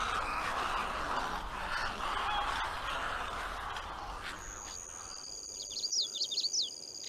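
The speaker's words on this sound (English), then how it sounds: "living overnight in a squawking madhouse on the tops of these trees" Wading birds squawk and chirp at an overnight treetop roost in a freshwater cypress forest of the upper Mississippi River delta, a steady busy chorus of calls with sharper chirps rising near the end.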